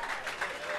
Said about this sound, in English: How about a nice round of applause for Mr. Mark Hummel, ladies and gentlemen, and the Blues Survivors.